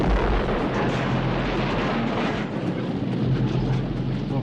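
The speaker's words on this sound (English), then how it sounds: "Love a good explosion. A good flame engulfment" A deep, rumbling explosion in The Thing (1982) rolls into a sustained roar of engulfing flames, dense and continuous throughout.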